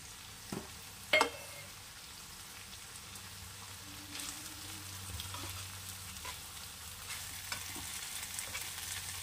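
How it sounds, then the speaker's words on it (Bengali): Fried onions being stirred into a Bengali bhola fish curry in a sizzling pan, with a spoon scraping and a couple of sharp knocks early on over a soft, steady frying hiss. "এই যে আমি পেঁয়াজ ভেজে রেখেছিলাম, এটা এখানে মিশিয়ে দেবো"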